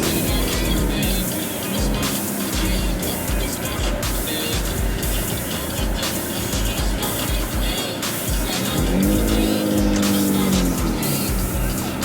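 Several cars idle and rev at a Las Vegas car meet lineup, including a GTR, with continuous engine rumble, passing vehicles and brief tire squeal, loud and close, with occasional voices underneath.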